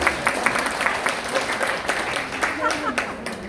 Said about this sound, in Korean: 그래 박수를 다 쳐.